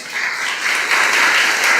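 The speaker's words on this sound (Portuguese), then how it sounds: "aplauda a palavra de Deus" A church congregation applauds, a dense, steady wash of clapping that holds at even loudness for the whole short stretch, with no talking over it.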